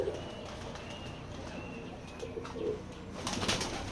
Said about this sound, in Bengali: এই যে দেখতে পাচ্ছেন আমাদের খামারের কবুতর